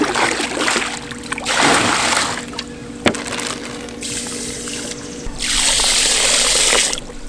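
Water and pool calcium increaser sloshing and swirling as they are stirred together in a 5-gallon bucket, with bursts of splashing that come and go over a steady background hum.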